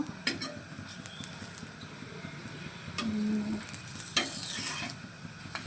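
Methi thepla, a Gujarati fenugreek flatbread, cooks on a tawa griddle with steady soft sizzling, joined by scraping and stirring clatter and brief metallic taps, close and moderately loud with no talking.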